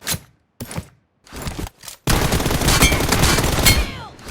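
Gunshots in PUBG Mobile: a few separate sharp shots, then a dense, loud burst of automatic fire that carries on for about two seconds.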